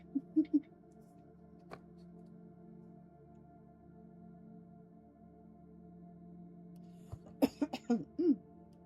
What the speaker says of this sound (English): I apologize if I'm coughing